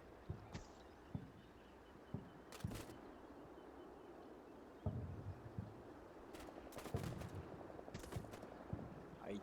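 Soldiers fire in the Combat Mission Black Sea war game, with scattered rifle shots and short bursts popping irregularly at a distance, faint against a low battlefield rumble and with no voices.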